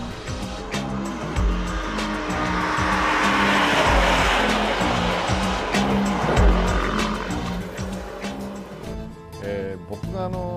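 Honda Civic Type R pushed at full throttle around the Suzuka circuit, a loud, steady engine roar rising and falling with gear changes, with tire squeal as it corners and no one talking over it.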